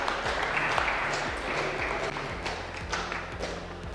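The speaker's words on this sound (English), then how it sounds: "Can we just give them a round of applause?" A steady wash of applause fills a car showroom with Hyundai IONIQ 5 vehicles on display, with a repeating low tone underneath and no speech.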